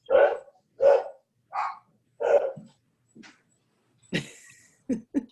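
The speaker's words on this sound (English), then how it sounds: "Alderman Plufka's dog is giving his report" A dog barks in a home during an online Brentwood, Missouri Board of Aldermen meeting: about eight sharp, close barks in a steady series, with a few softer yips near the end and no talk over them.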